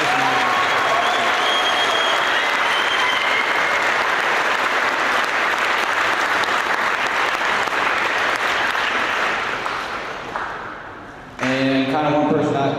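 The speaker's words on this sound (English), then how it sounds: "Please give a round of applause for that." A large crowd claps in a long, loud, full round of applause at an eighth-grade graduation ceremony at Grangeville Elementary Middle School; it tapers off near the end before a voice begins speaking.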